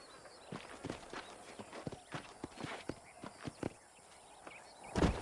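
Horse hooves clip-clop at a walking pace in Red Dead Redemption near Armadillo, a steady run of soft knocks under ambient game sound, ending in a louder thump.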